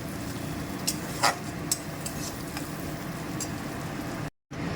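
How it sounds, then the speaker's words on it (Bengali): Chopped onions frying in a pan for mocher ghonto (banana blossom curry), a steady close hiss and sizzle with a few faint clicks of a utensil, cut off by a brief silence near the end. "পেঁয়াজ কুচিগুলো এবারে আমি দিয়ে দিচ্ছি ভাজার জন্য।"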